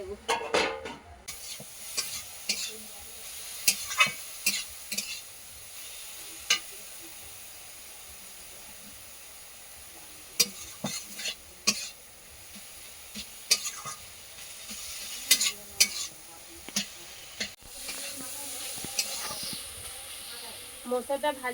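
Shrimp fried with banana flower in a pan, with soft continuous sizzling under repeated sharp clinks and scrapes of a stirring utensil against the pan.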